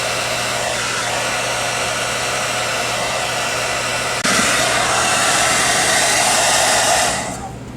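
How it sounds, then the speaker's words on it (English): A hair dryer blows with a steady loud whoosh and hum, shifting to a higher setting partway through before winding down at the end. "Let me get the hairdryer."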